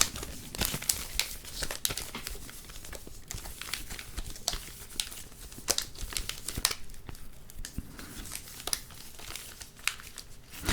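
Pokémon card packs from a boxed set being unwrapped close up, a continuous crinkling and crumpling of foil wrappers with sharp tearing snaps scattered through, no talking.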